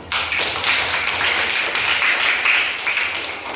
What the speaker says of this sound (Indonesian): kita tepuk tangan dulu semua